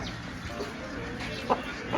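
A chicken clucks outdoors, a couple of short quiet clucks near the end over low background noise and faint, indistinct voices.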